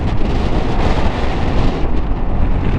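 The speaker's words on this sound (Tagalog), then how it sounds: "lakas ng hangin" Strong wind buffets the microphone in a constant loud roar, like rushing air while riding a motorcycle at speed.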